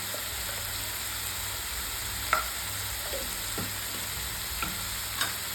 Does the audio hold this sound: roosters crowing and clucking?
no